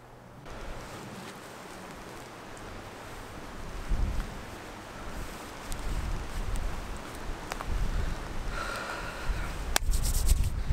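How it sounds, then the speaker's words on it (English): Steady wind roaring and buffeting against the microphone on open moorland, gusting stronger in the second half with a few crackles and rustles. "Windy today."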